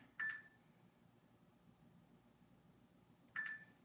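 Two short electronic beeps from a computer workout timer, about three seconds apart, sound clearly over quiet room tone with no talking.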